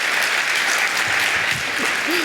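A large keynote audience at CES applauds the IBM CEO, dense sustained clapping at close range with a few faint voices and laughs surfacing near the end.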